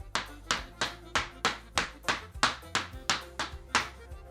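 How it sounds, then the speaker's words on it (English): Hard Irish dance shoes tap out fast treble hop backs in an even rhythm on a wooden floor, sharp clicking beats in tight repeated groups, close and clear with no talking. "we're going to do 3 treble hop backs in a row."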